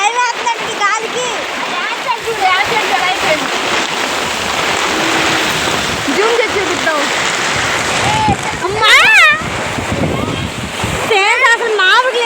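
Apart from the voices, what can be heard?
heavy rain during a storm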